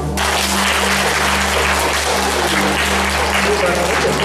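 A camp audience gives a sustained burst of loud, dense applause, many hands clapping together close by, unbroken for several seconds.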